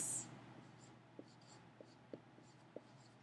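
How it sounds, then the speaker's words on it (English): Pen or pencil writing a price calculation for a percent discount, soft scratchy strokes with a few light taps, faint and close against a steady low background hum. "So we're going to go ahead and write now."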